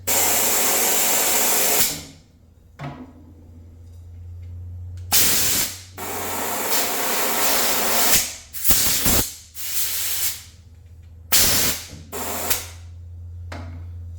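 Compressed air blasts through racing fuel injectors in loud, hissing bursts: a long spray, several shorter ones, then two final bursts, with a steady compressor hum beneath and brief quiet gaps between.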